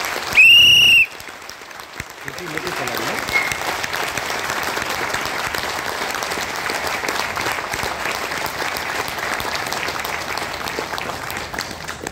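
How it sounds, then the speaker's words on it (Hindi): Audience at a business management event bursts into sustained clapping after a brief high whistle-like tone at the start, the applause building within two seconds and then holding dense and steady, loud, until the end. "मैं तालियां बजा रहा हूं अभी आप लोगों के लिए"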